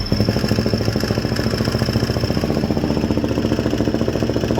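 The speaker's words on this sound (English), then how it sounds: "It's idling. It's not smoking." A 440 big block engine idles with the choke on, a loud, close, lumpy rumble with steady rhythmic pulses and no talk.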